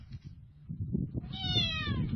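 A cat under a car meows once, a short nearby cry with clear harmonic rise and fall, over a background of shuffling and low rumble.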